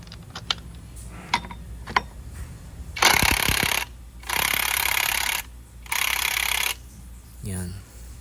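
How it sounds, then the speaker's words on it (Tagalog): An impact wrench tightens a bolt on a Honda Click scooter's belt drive: after a few light clicks, three loud, close bursts of rattling hammering, each about a second long, with brief pauses between. "Tsaka natin hihigpitan ngayon ng ating impact wrench."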